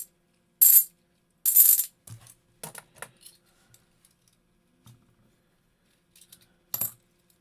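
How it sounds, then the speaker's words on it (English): Half dollar coins from rolls drop and clink onto a hard surface in several sharp metallic bursts, some loud and some faint, separated by short quiet gaps. "Listen to the coins."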